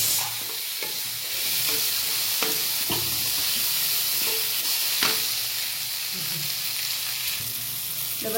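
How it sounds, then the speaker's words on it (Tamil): Onion and tomato fry in a pan for capsicum thokku, a steady sizzle stirred now and then with scraping clicks of a spoon, close and continuous with no talk. "வெங்காய தக்காளி நல்லா சூப்பாயிடுச்சு. நல்லா விதங்கிடுச்சு பாருங்க."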